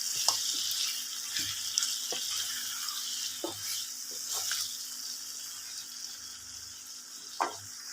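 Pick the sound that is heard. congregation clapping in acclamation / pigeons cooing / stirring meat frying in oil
stirring meat frying in oil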